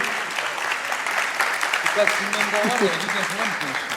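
Audience applause at a Sivas award ceremony as a guest is invited to the stage, continuous dense clapping with voices and cheers rising through the middle.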